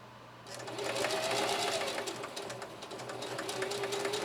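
A Singer Heavy-Duty 4423 sewing machine stitches fabric in a fast, steady run of needle strokes with a motor whine underneath, close by and alone.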